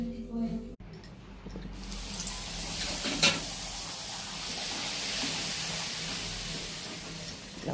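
Puris deep-frying in hot oil, a steady broadband sizzle and hiss that runs unbroken through the clip at close range, with a brief clatter near the start.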